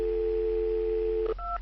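A cartoon telephone sounds a steady dial tone, then a couple of quick two-note dialing beeps near the end, clear and alone with no talk.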